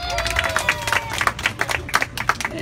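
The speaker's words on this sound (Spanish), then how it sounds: "Aplauso para Ismael" An audience at a Children's Day party in a Mexican neighborhood bursts into brisk, sustained clapping, dense and close, with a voice briefly rising over it at the start.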